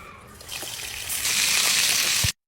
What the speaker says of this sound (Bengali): এখন এটাকে ভাজবো ইলিশ মাছটা